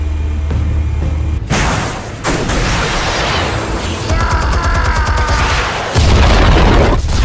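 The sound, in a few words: explosives detonating in the Batman Telltale video game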